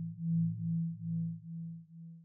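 Synth patch run through a basic chorus with low depth and wide stereo spread, a steady tone pulsing in five or six soft, even swells, clear and alone.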